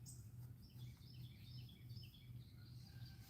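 Faint birdsong of several chirps and tweets drifts from the woods on a quiet morning outdoors, set over a steady low rumble.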